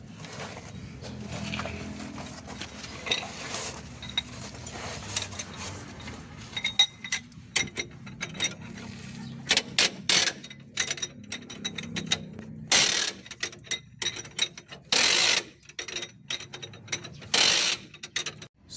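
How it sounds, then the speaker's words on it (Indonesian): A ratchet wrench loosens the retaining bolt on a vehicle's leaf spring, with faint mechanical clicking at first that builds into sharp, close, irregular bursts of rapid ratcheting, strongest in the second half. "untuk membuka baut penahan per daun"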